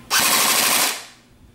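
An airsoft G36 rifle lets off a loud, sharp, rapid burst of shots lasting under a second, close by, then falls silent.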